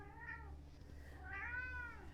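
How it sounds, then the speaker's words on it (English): A house cat meows twice during a yoga class, two drawn-out calls close to the microphone with a short pause between them, over a low steady room hum. "I'm going to have to kick my cat out for Savasana."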